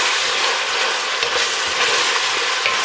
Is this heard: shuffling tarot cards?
no